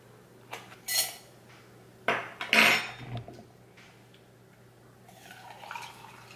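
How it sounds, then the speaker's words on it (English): Metal clinks and light scraping as loose blackberry tea is scooped into a metal basket infuser, a few sharp taps and rattles close by, then softer rustling amid quiet room tone. "Let's just go ahead and scoop our tea right into our infuser."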